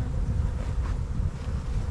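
Honey bees at an almond-pollination hive buzz in a steady, close, dense hum, mixed with some wind rumble and no voices.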